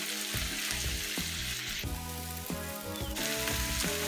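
Pork belly and kimchi fry in a pan with sambal oelek chili paste, giving a dense close sizzle under a busy backing of tonal music with a strong beat.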